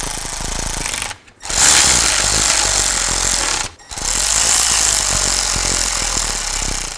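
Power tool, likely an impact wrench, snugging down bolts on a brake bracket at the rear axle of a Chevy Tahoe, giving loud close rattling hammering in two long bursts separated by short pauses.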